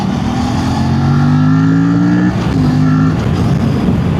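A 2026 Aprilia RS 457 motorcycle being ridden, its engine rising in pitch, dipping briefly at a gear change, then climbing again, loud and close throughout with no talking.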